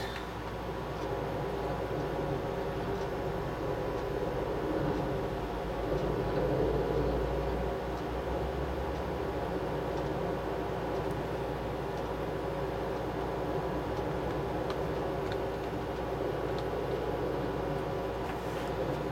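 A low, steady rumble of a train in Microsoft Train Simulator on an eMachines W3502 computer hums beneath broad noise, fairly faint and continuous, with a brief heavier pass near the middle.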